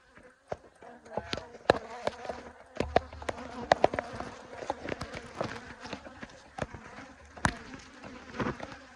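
Honey bees buzzing around hives during a hive check, a close insect hum with individual bees zipping past the microphone amid clicks and handling knocks.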